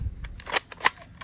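A toy shotgun firing soft bullets gives a couple of quick plastic snaps, light clicking pops close by and fairly quiet, with faint handling noise around them.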